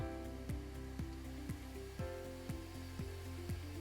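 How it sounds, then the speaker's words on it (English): A SITEK spin rinse dryer runs in a lab, giving a steady mechanical whir with a regular pulsing beat about twice a second, heard alone at moderate level. "everything's going great right now on the spin rinse dryers. We've got about 40 seconds left on this chamber"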